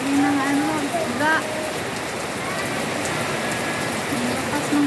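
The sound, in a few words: heavy rain during a typhoon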